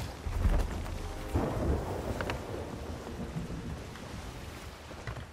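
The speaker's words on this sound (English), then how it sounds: "The storm is a problem," A storm at sea in the pirate game Sea of Thieves rumbles with low thunder and wash of rain and water, loudest early and easing to a steady churn.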